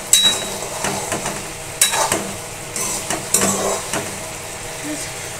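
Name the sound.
aloo posto simmering in a pan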